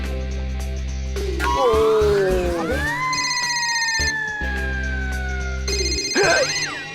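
A loud electronic mobile phone ringtone plays with rising and falling warbling tones, repeating in bursts against a low background hum.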